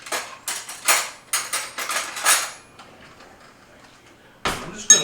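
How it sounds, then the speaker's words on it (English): Egg yolks and whole eggs for carbonara get whisked in a bowl, a quick series of clinking, scraping utensil strokes in bursts, then a pause before a couple of final knocks. "I'm just going to stir that up really well"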